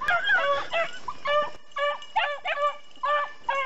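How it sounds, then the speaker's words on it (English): A dog barks close by in a quick series of short, high-pitched yelps and yips, repeated several times with brief gaps. "Oh, he's barking."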